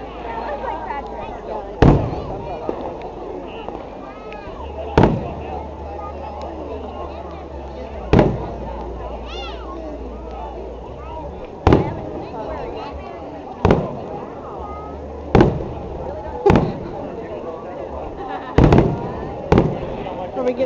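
A fireworks display in Herndon in 2008 sends loud booming bursts at irregular intervals of a few seconds. A steady low rumble runs underneath, and people chatter in the background throughout.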